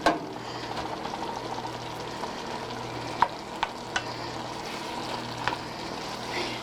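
Smoked turkey sausage going into a pot of simmering okra soup, heard as a steady low bubbling and stirring with a few soft clinks and small splashes; no talking.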